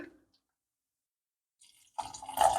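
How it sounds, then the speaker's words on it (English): Water is poured into a pot of vegetable soup with leafy greens, a short splashing, filling burst that starts after near silence and grows a little louder before it ends. "I'm going to add a tiny bit more water."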